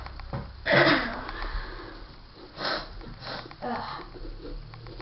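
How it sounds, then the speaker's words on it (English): Someone with a stuffy nose sniffling during pumpkin carving, several short, close wet sniffs repeating at irregular intervals over quiet background noise. "nose is kind of stuffy today, so you might hear him sniffling a little bit"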